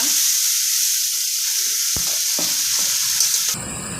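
Ground spice paste hits a hot pan with a steady, loud sizzle that keeps going, joined by a few scraping stirs and a sudden change in the frying hiss near the end.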